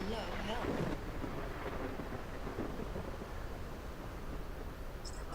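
A thunderstorm in a flying video game rumbles steadily, with heavy thunder rolling over rain and wind noise. The dense, close storm wash continues for several seconds without a break.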